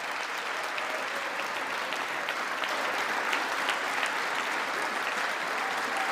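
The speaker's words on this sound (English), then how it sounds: "Every time they start clapping" Sustained audience applause during a State of the Union address, a dense, even wash of clapping from a large crowd that continues without break.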